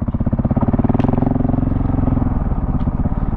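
KTM 690 Enduro R motorcycle riding a forest trail in Ocala National Forest, its loud single-cylinder engine thumping steadily and close throughout, with a couple of brief clatters.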